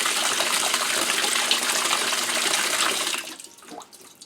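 The hot water valve of a Maytag commercial washer, model MVWP575G, is open in self-test mode, and water gushes loudly into the tub for about three seconds before cutting off, leaving faint drips and trickles.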